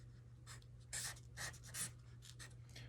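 A marker writes on paper, close and quiet, in a series of short scratchy strokes at an irregular pace.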